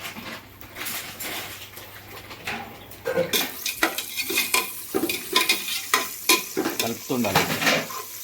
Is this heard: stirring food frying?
yes